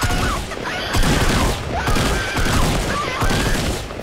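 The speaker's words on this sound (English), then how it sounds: "What's he shooting me with? Oh, he had a scope AR." Scoped assault rifle fire in Fortnite: rapid bursts of gunshots run through the whole moment, dense and fairly loud, with the cracks coming in clustered volleys.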